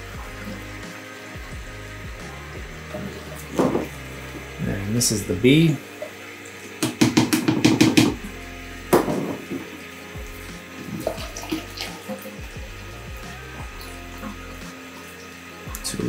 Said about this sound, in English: Run a little hot water.